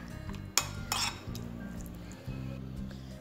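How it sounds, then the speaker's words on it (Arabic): Sardine chermoula stuffing is mixed in a bowl with a utensil, giving soft scraping and occasional clinks against the dish, with a couple of sharper knocks near the start, close and fairly quiet. "فوالا نخلطها مليح مليح"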